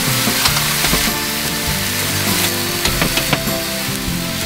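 Roasted red peppers sizzle steadily on a flat griddle top, a dense continuous crackle with scattered sharper pops and light scraping, close and loud throughout with no talking.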